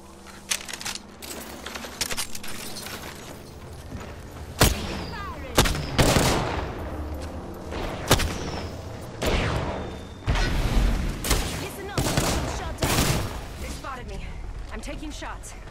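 Rapid gunfire in an Apex Legends battle rings out close and loud in repeated bursts and single sharp cracks, with intermittent speech running between the volleys.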